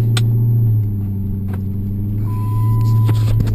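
A car cruising on a São Paulo city road, with steady low engine and road rumble throughout and a faint tone plus a few light clicks partway through.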